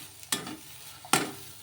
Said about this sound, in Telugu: ఇలా వేసుకొని మొత్తం కూడాను ఒకసారి మళ్ళీ బాగా కలిపేసుకుందాము